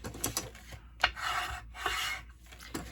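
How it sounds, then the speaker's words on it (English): Score lines on a paper gift bag burnished with a tool, several short close rubbing and scraping strokes with small taps between them, quiet and without talk. "Give that a good burnish."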